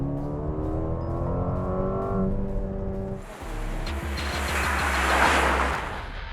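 Engine of a 2021 Mercedes-AMG GLA 35 in sport mode, a steady tonal drone that gives way to a rising, louder, rougher roar as it revs and accelerates, with no voices.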